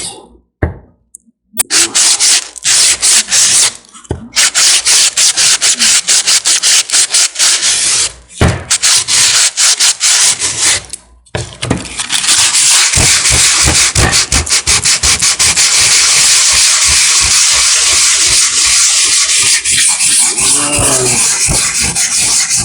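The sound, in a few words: sanding Bondo on a miniature with 80 grit sandpaper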